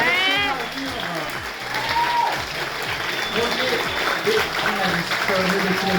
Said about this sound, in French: On peut l'applaudir, c'est vraiment un sacré travail.